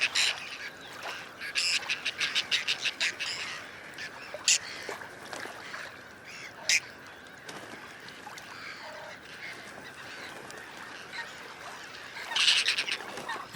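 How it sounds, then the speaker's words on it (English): Whiskered terns call at a breeding colony on lakes in La Brenne, France, with a busy chorus of harsh, rasping cries in rapid repeated bursts over constant background bird chatter. "It is hard to say how many whiskered terns there are in France, but this is where the biggest colonies are found."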